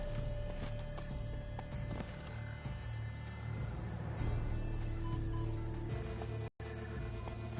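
Horse hooves gallop in The Witcher 3, a steady, close clip-clop rhythm that runs the whole time over a sustained game soundscape, with a brief neigh in the mix.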